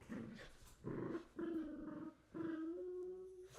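Dogs growl and whimper in low, rumbling bursts at close range, with several short snarling phrases separated by brief pauses and no talking.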